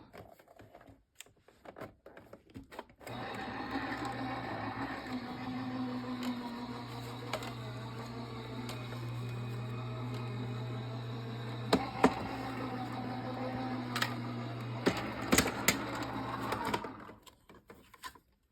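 A machine hums and whirs steadily as a die cutter feeds through paper, with a few sharp clicks and clacks, then stops abruptly.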